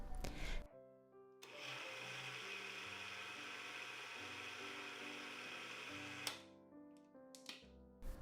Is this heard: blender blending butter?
yes